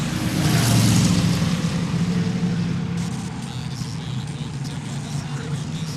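Pure Stock race cars roaring past at Seekonk Speedway, a loud, sustained engine drone that swells early and then fades to a steadier hum, with announcer-style talk over it.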